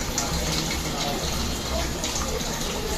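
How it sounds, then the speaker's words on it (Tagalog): Water from a washing machine with a faulty water-level sensor gushes and overflows continuously, a steady loud rushing splash from start to end. "hindi siya titigil pag ang problem ay natatapon yung tubig tuloy-tuloy"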